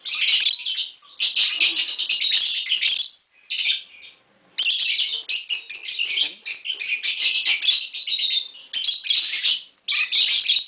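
A tame pair of green Fischer's lovebirds chirps and sings close by in dense, shrill bursts of high twittering, with a few brief pauses between runs.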